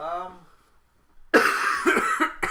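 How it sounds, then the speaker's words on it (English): A person's coughing fit, a cluster of sharp, loud, close coughs after a brief quiet, following a moment of speech, from someone still getting over a lingering cough during a casual chat. "Still getting over this cough."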